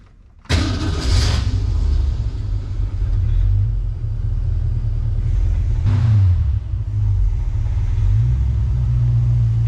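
A 1966 Ford Mustang fitted with Sniper EFI fuel injection fires up and settles into a loud, steady low rumble close by, with a throttle blip partway through and no talking over it.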